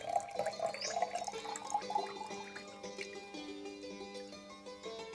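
Azurite pigment suspended in water poured from a jar, a continuous liquid pour with trickling and dripping over faint background tones.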